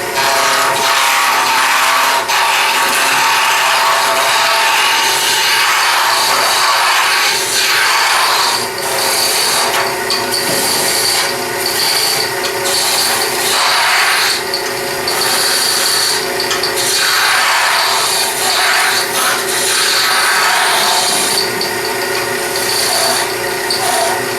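A wooden scoop handle being turned on a lathe, with a steady, continuous scraping and cutting hiss that runs alone and close throughout, its intensity rising and falling slightly as the tool works the wood.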